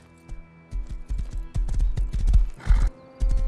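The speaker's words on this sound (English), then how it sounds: "Dude, I'm stuck with the horse." A horse in the survival video game Rust clops its hooves in quick, uneven bursts and lets out a short neigh, close and moderately loud, with no one talking over it.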